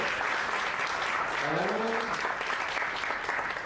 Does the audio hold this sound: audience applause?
yes